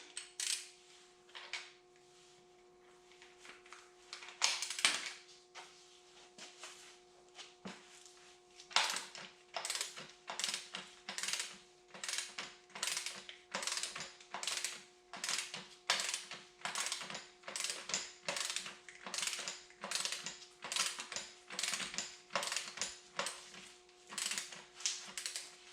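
A wrench torques down a piston nut, with a few scattered metallic clicks at first, then a long, steady run of sharp, close ratcheting clicks in a regular rhythm, with no speech.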